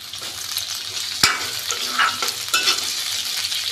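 Crushed ginger and green chilies fry in a pan with browned potatoes, giving a close sizzle with scraping and stirring clatter, including one sharp knock.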